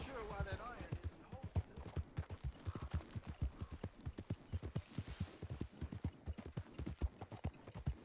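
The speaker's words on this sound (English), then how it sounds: "my horse is almost out of stamina" Horse hooves clip-clop in a steady, fairly close rhythm in the Red Dead Redemption 2 video game, while someone talks over the hoofbeats throughout.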